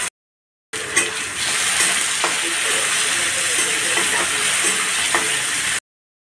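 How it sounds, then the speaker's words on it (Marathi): Tomatoes and finely chopped coriander sizzling in a hot pan, a steady broadband frying hiss with a few soft stirring clinks, close and continuous for several seconds. "आता मी टोमॅटो टाकते। बारीक चिरलेली कोथिंबीर टाकते।"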